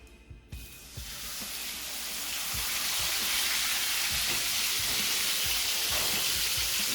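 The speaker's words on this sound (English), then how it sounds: "That sizzle factor" Steak frying in a hot pan, a dense sizzle that swells within the first seconds after the meat goes in and then holds loud and steady, with occasional pops.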